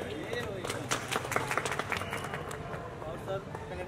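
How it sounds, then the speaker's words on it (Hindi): Audience clapping to welcome guests at a Mumbai suburban journalists' association reunion, a dense patter of many hands heard somewhat distantly, with voices and crowd murmur mixed in. "अपने प्रांगण में आए अतिथि का जोरदार तालियों के साथ स्वागत किया जाए"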